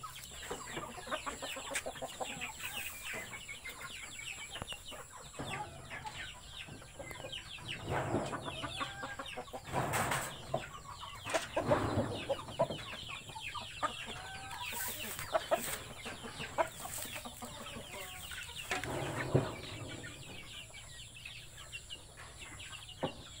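A five-month-old Bangkok rooster weighing about 3 kg clucks and calls repeatedly at close range, with scattered sharper bursts over a steady outdoor background; no talking.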